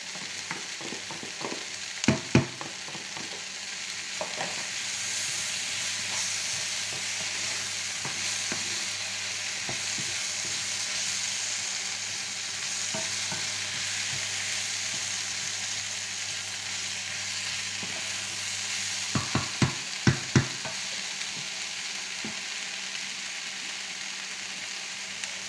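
Leeks fry in a pan for boeuf bourguignon with a continuous steady sizzle, broken by a few sharp clicks and scrapes of stirring, heard up close, with no talking.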